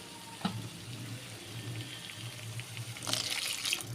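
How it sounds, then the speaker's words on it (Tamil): Water splashes briefly into a pan of egg keema masala, then a longer pour follows, with a soft low bubbling or simmer underneath. "இப்போ அதிலே ஒரு டம்ளர் தண்ணி ஊற்றி நல்லா கொதிக்க விட்டுறலாம்"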